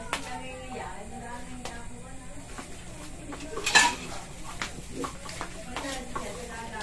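Four eggs being beaten in a bowl for a tuna eggplant torta, a steady soft whisking with faint clinks of utensil against the bowl, one louder knock midway, under continuous talk.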